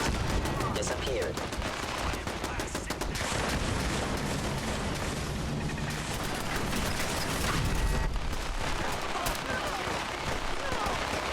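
In Fallout 4, gunfire aimed at the player crackles in a dense, unbroken barrage of rapid shots and impacts that stays loud and busy for over ten seconds.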